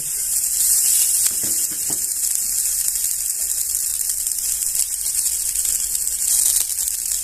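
Fresh coriander and curry leaves dry-roasting in a pan for a homemade Marathi dry spice masala, a steady soft sizzle and crackle with a few faint scrapes, no talking.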